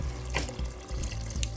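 Broth is poured into a pot of rustic harvest minestrone, making a steady close splashing, running-liquid sound over a low background hum.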